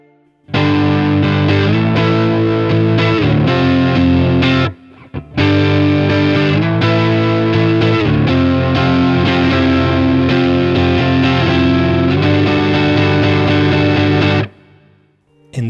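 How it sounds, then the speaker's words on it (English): Behringer TO800 Vintage Tube Overdrive pedal adding distortion to a steady harmonic test signal, with the pedal switched on and off: a loud, continuous buzzing overdriven tone that cuts out briefly near five seconds, then resumes and stops near the end. "when the pedal is turned on and off, the distortion added to the signal."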